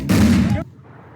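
One loud, close gunshot or blast in a game, Corrupted 76, dropping abruptly into quiet after about half a second.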